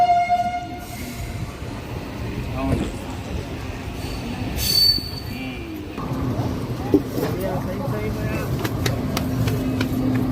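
A Satavahana SF Express LHB train runs on tracks near Kazipet Junction, a steady rumbling roll with brief squeals and a short high horn-like tone partway through, heard from inside the moving coaches.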